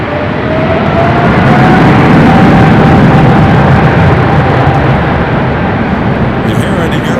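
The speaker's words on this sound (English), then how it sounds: "British Airways up next for arrival" A British Airways airliner arrives at Los Angeles LAX airport, its engines giving a loud, steady roar with a faint rising whine that fills the whole stretch.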